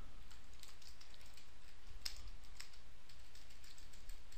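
Quiet, steady computer keyboard typing, with soft rapid key clicks running continuously and one sharper keystroke standing out, close and alone without speech.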